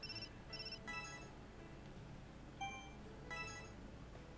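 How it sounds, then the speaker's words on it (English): A telephone ringing in short repeated bursts of bright electronic tones, fairly quiet over a low background murmur, with several rings spaced unevenly. "Phone!"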